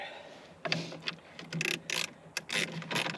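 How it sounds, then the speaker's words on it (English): Ratchet with a 7mm socket backing out screws on a 2005 Ford Explorer Sport Trac, several short bursts of rapid clicking separated by brief pauses, close and moderately loud. "we will pop off the three screws here"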